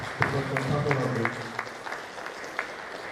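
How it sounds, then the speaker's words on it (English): An audience at a Nigerian university registrars' annual retreat applauds a guest with steady, rhythmic clapping, while voices talk loudly over it. "A round of applause again for Dr. Autonomy."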